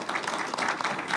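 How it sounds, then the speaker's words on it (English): A conference audience gives a short round of applause, with many hands clapping in a steady, moderately faint patter. "Let's give them both a round of applause."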